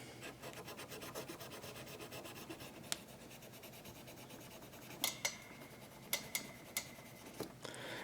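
Sandpaper is pressed hard and rubbed against the crown guard of an Invicta 8926 Pro Diver watch, making a close, steady rasping in quick back-and-forth strokes. A few sharp clicks punctuate the latter part.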